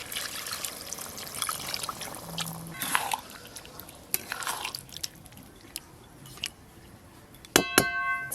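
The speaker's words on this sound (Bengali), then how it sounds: "এবার জল দিয়ে দেবো" Water is poured into a pan of chicken and masala, giving a soft trickle and splashing close by with a few drips and utensil clinks, ending in a sharper metallic rattle.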